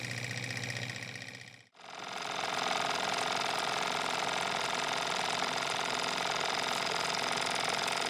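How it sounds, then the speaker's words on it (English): A Wiggers Stiwi 2 model engine fired by a spirit burner runs flat out with no throttle, a loud, steady, even whirring hum that dips briefly and then resumes unchanged. "Really beautiful running engine."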